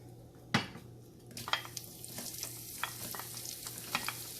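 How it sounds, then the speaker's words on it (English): Shallots are added to a pan of hot oil while cooking venison fry, starting with a clatter, then a quiet, steady sizzle with light stirring scrapes and small pops. "once the raw smell goes, I am going to add the shallots"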